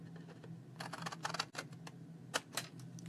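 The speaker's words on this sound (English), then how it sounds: "I'm gonna trim that" Scissors snipping along the outer edge of a cardstock Christmas card, a short run of crisp close cuts and paper rustles, quiet with no talking.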